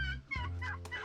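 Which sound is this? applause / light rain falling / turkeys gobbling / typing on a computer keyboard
turkeys gobbling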